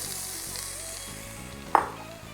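Onion frying in oil in a pan gives a steady, even sizzle throughout, broken once by a single sharp clack near the end.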